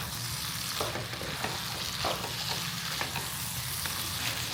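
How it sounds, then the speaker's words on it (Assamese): Loud, close sizzling of chicken and meat masala frying in a pan, with scattered stirring scrapes and no voices. "এতিয়া এনেকৈ ভাজি থাকিম অলপ সময়"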